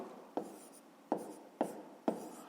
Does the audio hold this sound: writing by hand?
yes